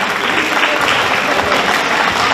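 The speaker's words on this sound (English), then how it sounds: "Big round of applause, please." Audience applause at a community holiday event, loud sustained clapping from a sizable crowd, dense and unbroken from start to finish.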